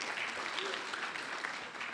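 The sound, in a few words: conference audience applause for speaker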